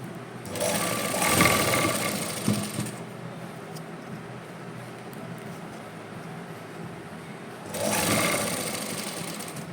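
Sewing machine stitching lace onto a round hem, two close bursts of fast whirring stitches, one lasting a couple of seconds at the start and another near the end, with a quiet pause between.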